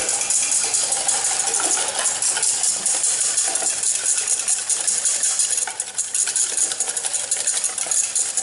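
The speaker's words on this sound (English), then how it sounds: "We're going to whisk this together." A whisk clatters steadily against a bowl while mixing a steak marinade of honey, minced garlic and black pepper, a dense close-up rattle of metal on the bowl that continues without pause and with no talking.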